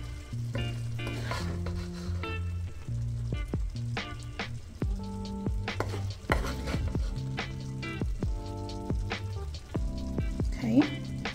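Egg roll filling sizzling loudly in a hot pan, a steady close crackle broken by frequent clanks and scrapes of stirring, with no one talking.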